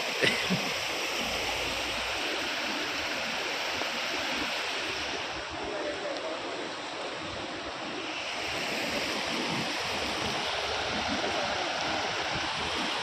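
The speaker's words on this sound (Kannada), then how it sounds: "ನೋಡ ಹರಿಯೋದು ನೋಡಿ ನೀರು ಎಂತ ಸ್ಪೀಡ್ ಹರಿತಾವ" Floodwater rushes fast through a channel after heavy rain in Ballari, a loud continuous roaring wash that holds steady throughout, with some wind buffeting and no one talking.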